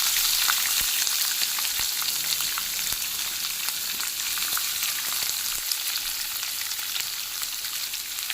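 Peanuts, onion and green chilli fry in hot oil in a kadai, giving a steady, loud, close sizzle that crackles on without pause and with no talk.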